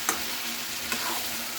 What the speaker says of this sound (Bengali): মাছটা আমি আস্তে করে এর ওপরে দিয়ে দিচ্ছি, মানে এটা দিয়েও আমি মাছটা কষে নেবো একটু।